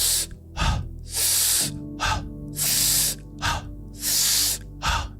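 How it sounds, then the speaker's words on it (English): Close, loud breathing alternates long drawn-out inhales with short sharp exhales, repeating in a steady rhythm. "If you take long inhales,"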